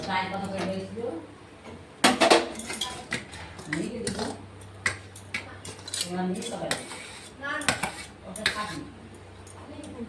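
Metal pot and utensils clank and scrape as a pot of cooked leafy greens is lifted off a stove, several sharp knocks and rattles spaced through the stretch, mixed with someone talking.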